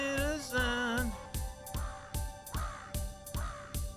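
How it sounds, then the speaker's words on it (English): Birds squawk in the video game GregTech New Horizons in Minecraft, loud crow-like caws repeating in a steady rhythm over a pulsing drum beat. "The birds squawk in time."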